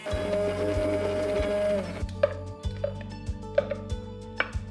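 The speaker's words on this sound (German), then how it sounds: "fein pürieren" A blender runs steadily, purée-ing a marinade of yogurt, salt, Maggi seasoning and hoisin sauce for chicken wings, then stops abruptly about halfway, leaving scattered knocks and clicks.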